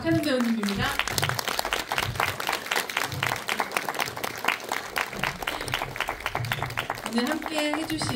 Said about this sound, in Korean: 큰 박수 부탁드립니다. 박하선 배우님입니다